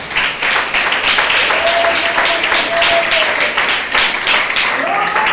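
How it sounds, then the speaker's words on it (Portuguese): A church congregation claps during a pastor's sermon in Irajá, a loud, continuous wash of hands with a sustained voice or tone running faintly through it. "Cadê as palmas?"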